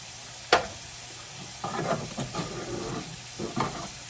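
Food fries in olive oil in a pan while gravy mix is worked in, browning for dinner; a steady low sizzle runs throughout, broken by a sharp clatter near the start and several stirring scrapes.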